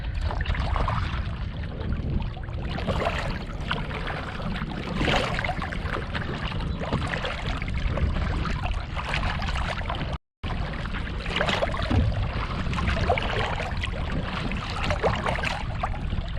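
Continuous splashing and rushing water around a paddled kayak on a turning tide, loud and close, with a brief dropout midway.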